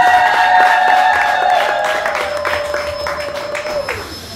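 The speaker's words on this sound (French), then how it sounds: "Est-ce qu'on peut l'applaudir?" Wedding guests at a civil marriage ceremony clap together in a dense burst of applause that starts strong and gradually thins out, with sustained music tones running beneath.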